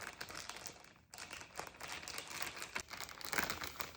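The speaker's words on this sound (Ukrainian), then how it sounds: "Беремо нашу рибку і викладаємо в такий пакет." Thin plastic bag crinkling and rustling as a piece of salmon is laid inside for gravlax cured with beetroot and cognac, close and continuous with irregular crackles, no talk.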